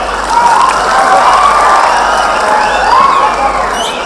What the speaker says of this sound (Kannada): ಯಾರ್ಯಾರಿದ್ದೀರೋ ನಿಮಗೋಸ್ಕರ ನೀವೊಂದು ಜೋರಾದ ಚಪ್ಪಾಳೆಯನ್ನು ಮಾಡ್ಕೊಳ್ಳಿ